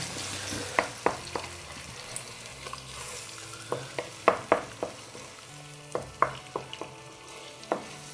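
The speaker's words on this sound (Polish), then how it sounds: "Obniżamy gaz i mieszamy wszystko dokładnie." Egg fries over lowered gas and is stirred in a pan for Indian-style scrambled eggs: a continuous soft sizzle broken by irregular sharp spatula taps and scrapes, close and unaccompanied by speech.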